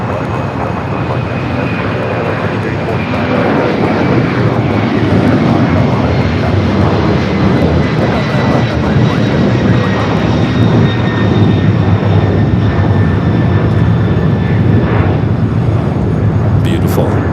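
Airliner taking off from runway 25 right at Los Angeles International Airport: a loud, steady roar of engines holds without break, with a faint high whine running across it.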